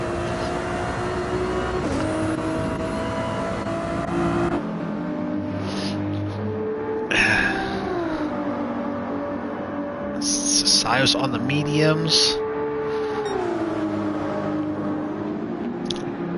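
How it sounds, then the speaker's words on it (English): Engines of race cars drone and shift pitch in an online DTM racing sim, revving and whining as cars pass and leave the pits, while a voice talks over them. "I think I hear cars coming out of the pits"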